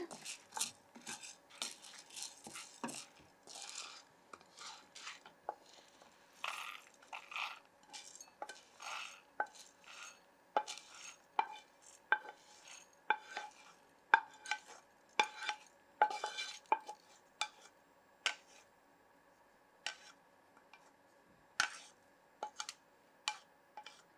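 Roasted urad dal is scraped and tipped from a pan into another bowl, giving a string of faint clinks, scrapes and stirring taps in an otherwise quiet kitchen, with no talk.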